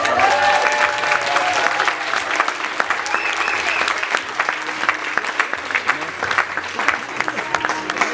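An evening show audience applauds warmly before a dance performance, producing a dense, steady wash of clapping from a sizeable crowd, loud and sustained with no voices over it.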